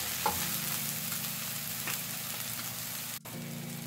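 Ground pork sizzling and frying in a pan with sliced tomatoes, a steady hiss that carries on unbroken with a brief dip near the end.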